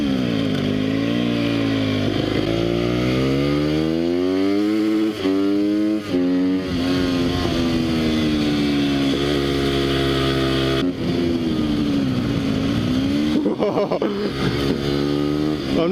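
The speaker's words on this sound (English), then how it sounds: "Not used to going sideways out of a corner on a supermoto." A Sherco 300 SEF-R supermoto rides hard around a corner, its single-cylinder engine rising and falling loudly through repeated revs, downshifts and throttle bursts, with brief gaps between them.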